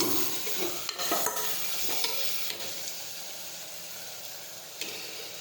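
Guar beans sautéing with salt and sugar in a pan, a steady soft sizzle with scraping stir strokes and occasional clinks of a spoon against the pot, close and continuous.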